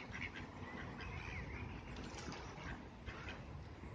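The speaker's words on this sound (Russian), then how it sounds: "смотри, какая утка" Ducks quack outdoors on a walk through Saxon Switzerland in eastern Germany. The calls are faint and scattered over a steady outdoor background, with no talking.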